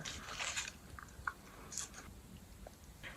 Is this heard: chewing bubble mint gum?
yes